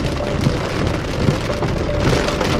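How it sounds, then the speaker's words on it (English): Hail pelts a car during a Texas tornado-outbreak storm, a dense, constant patter of hard hits on the vehicle with a steady background roar and no talking. "Grayson, hail"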